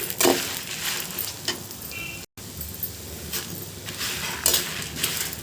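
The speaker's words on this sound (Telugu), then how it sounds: "ఒక ముప్పై ఎండుమిరపకాయలను కూడా ఇందులో వేయించుకోవాలండి" Dry red chillies frying in a pan for a drumstick-leaf spice powder, a close steady sizzle with stirring scrapes and an occasional clink of a utensil, moderately loud and without talk.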